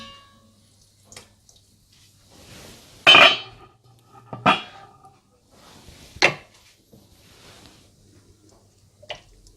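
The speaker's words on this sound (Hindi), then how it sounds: "अब इसे मैं सर्विंग डिश में निकाल लूंगी" Kashmiri gushtaba being ladled into a serving dish: a handful of separate clinks and scrapes of a ladle against pot and dish, close and fairly loud, with quiet gaps between them.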